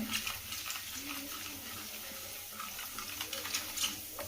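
Cumin, mustard seeds, chana dal and urad dal fry in hot oil for a raw banana palya, giving a continuous close hiss with scattered small crackles and pops.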